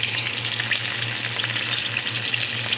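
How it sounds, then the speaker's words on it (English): Smothered cabbage greens cooking down in a pot give off a steady, close sizzle and bubbling hiss that holds evenly from start to finish, with no one talking. "And there is my cabbages. They're cooking down."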